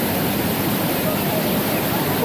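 Strong, steady rush of water pouring at the Lata Bunta waterfall beside a cave, a dense, loud broadband roar filling the whole stretch without letting up.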